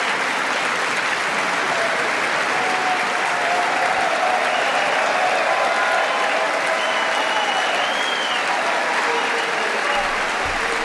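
Sustained applause from a crowd during a speech, a dense, even wash of clapping that holds steady throughout at moderate loudness.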